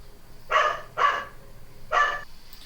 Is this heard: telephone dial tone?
no